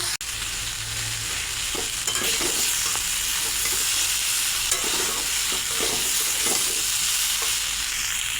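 Green chillies fry in a pan while a Malabar spinach curry is being cooked, giving a steady close sizzle broken by repeated scraping stirs, with no talking.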